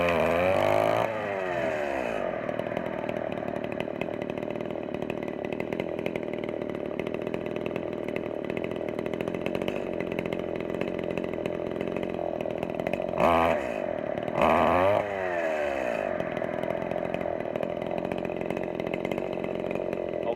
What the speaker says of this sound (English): so now it actually runs really good at idle, and all I did was adjust the stop